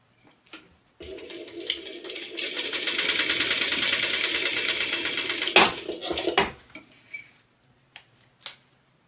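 A sewing machine top stitches a tote bag in a fast, steady burst of about five seconds, close and clear, framed by a few clicks and handling knocks.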